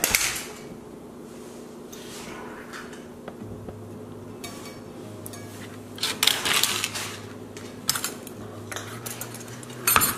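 Knife cutting the side off a buffalo gourd, a run of crisp clicks and scraping cuts with metallic clinks against a quiet hum, louder bursts near the end.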